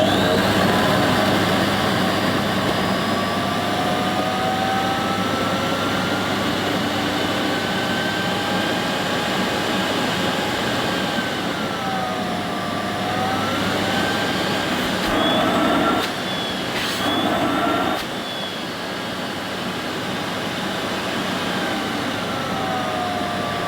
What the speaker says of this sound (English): So when I switch the cleaner on at the hand grip, the red light should go off and the green light should turn on